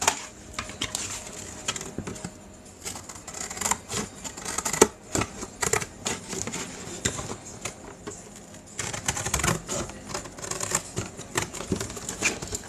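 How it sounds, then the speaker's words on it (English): Scissors snip through paper while trimming pages for a handmade junk journal, a run of quick, crisp cuts in bursts with short pauses between, close to the microphone and without talking. "I'm going to use my scissors, because everybody has scissors."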